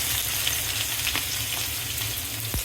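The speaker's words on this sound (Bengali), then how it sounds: "তেল গরম হয়েছে, দিয়ে দিব পেঁয়াজ কুচি" Chopped onion hits hot oil in a pan for a radish and shrimp curry, setting off a steady close sizzle with a few faint clinks and a soft thump near the end.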